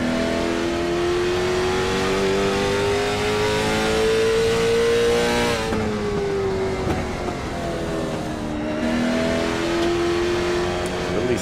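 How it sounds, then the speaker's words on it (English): Late model race cars run warm-up laps at Stafford, a loud engine rising and falling in pitch as the throttle opens and backs off for corners, steady and close throughout. "The cars actually sound good on the inside and the outside."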